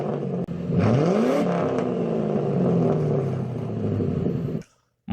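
A Ford Crown Victoria's 4.6 liter single overhead cam V8 revs up and falls back, a steady mechanical whir rising in pitch then settling, heard close and alone before cutting off abruptly near the end.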